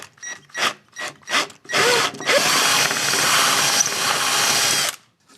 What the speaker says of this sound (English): I've got a 1/4 inch drill bit here